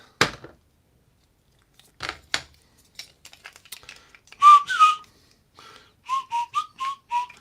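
A person whistles a tune solo in a quiet room, short melodic phrases in bursts separated by pauses, with a few faint crinkling and handling noises between them.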